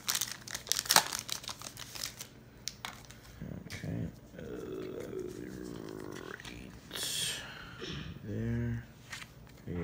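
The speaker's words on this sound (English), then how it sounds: "You want me to open up the packs?" Pokemon Sun and Moon Burning Shadows booster pack wrappers being crinkled and torn open, with sharp bursts of crackling foil at the start and intermittent crinkles later, heard alongside people talking.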